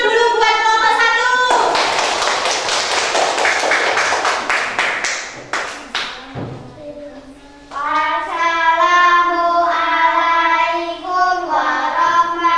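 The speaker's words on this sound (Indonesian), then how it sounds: "Tepuk tangan dulu buat kelompok 1" A class of young schoolchildren in a second-grade maths lesson claps for the first group, a burst of sharp, close hand claps that thins out, bracketed by children's voices speaking before and after.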